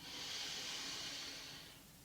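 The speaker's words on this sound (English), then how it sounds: "We'll go again, breathing in." A deep inhalation during a yoga session, a soft, airy breath drawn in steadily for about two seconds and then tapering off, faint and close with no talking over it.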